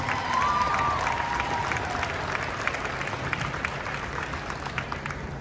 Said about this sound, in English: Let's have another giant round of applause for all of these participants,